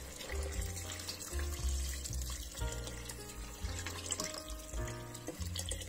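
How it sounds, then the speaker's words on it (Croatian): Water pours from a tap into a pot of goulash meat, giving a steady rushing splash with shifting tone. It runs continuously and sits close, with no speech over it. "Nalit ćemo sada vodu."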